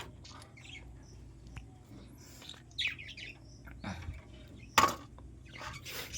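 Pet budgies chirping in a cage, soft scattered tweets and short calls over a faint low hum, with one sharper squawk near the end, fairly quiet and no talking.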